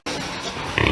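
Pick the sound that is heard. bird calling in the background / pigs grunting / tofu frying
pigs grunting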